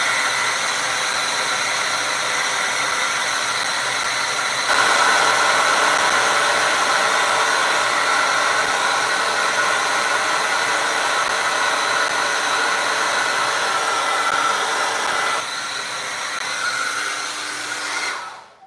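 A hair dryer blows on a wet painting in a steady, loud whoosh close by for about eighteen seconds. Its pitch and strength shift twice as the setting or angle changes, then it cuts off at the end.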